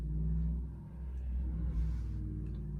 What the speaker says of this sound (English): Seriously, why do all the loud vehicles come into this neighborhood?